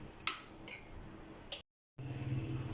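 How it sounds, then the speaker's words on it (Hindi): A sugar mixture for pancakes is beaten in a bowl, with faint clinks and taps of a utensil against the bowl at irregular intervals, soft and close, briefly cut by a moment of silence. "और इसको अच्छे से बीट कर लेंगे।"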